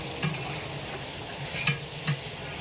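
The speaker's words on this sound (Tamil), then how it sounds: "வெங்காயம் நல்லா எண்ணெயில் வதங்குற வரைக்கும் வதங்கி வரணும்" Onions frying in oil for sambar rice, a steady low sizzle with a few soft stirring scrapes of the spoon against the pan, close and fairly quiet, with no voices.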